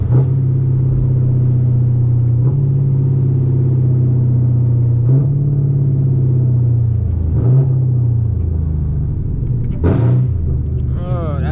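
A Chevrolet Camaro ZL1 engine, driven at night, drones loudly and climbs in pitch, dropping sharply at each of several gear shifts before revving up again.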